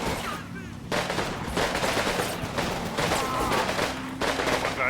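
Gunfire from the World War II wargame Combat Mission Fire and Rubble, set in Pomerania 1945, comes as long bursts of rapid automatic fire and volleys of shots, loud and sustained, broken by brief pauses, with faint talk beneath.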